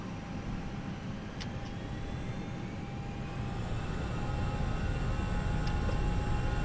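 Airbus A321 engines in a flight simulator spool up for takeoff, a steady low roar that slowly builds in loudness with a faint rising whine over it.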